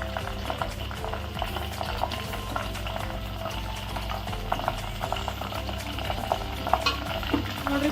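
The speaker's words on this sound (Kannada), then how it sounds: "ಅಲೋವೆರಾ ಈ ಥರ ಒಂದ್ರಾಗ ಎರಡು ಕಟ್ ಮಾಡ್ಕೊಂಡಾಳ ಈಗ ಅದನ್ನು ಹಾಕಾಕತ್ತಾಳ" Cut aloe vera pieces fry in hot oil for a homemade hair-fall remedy, giving a steady, dense sizzle and crackle that runs the whole time at an even level, with no talking.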